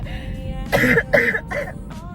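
A few short coughs in quick succession, close and fairly loud, with a throat-clearing quality.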